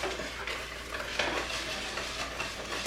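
Cake batter thinned with vegetable oil is stirred with a whisk in one bowl, giving a continuous, close swishing and scraping that rises and falls with each stroke, with no voices.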